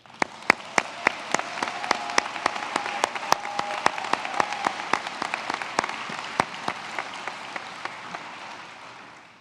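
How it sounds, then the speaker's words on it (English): Applause rises at a medical school white coat ceremony, a gathering wash of clapping hands with several sharp, close individual claps standing out, swelling then slowly fading. "Please join me in applauding their efforts."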